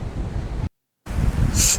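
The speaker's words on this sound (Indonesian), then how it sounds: "Duh, angin kenceng guys." Strong wind roars across an open stretch of southern Java coastline near Santolo, Pangandaran, with broadband buffeting against the microphone that cuts out briefly midway, then returns loud and steady.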